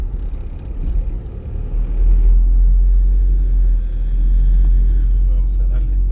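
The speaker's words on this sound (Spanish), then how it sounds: "Vamos a darle paso a este camión, a este carro" A truck passes on a town street in Chavinda, its heavy low engine rumble swelling and staying loud and close for several seconds, with a person talking over it.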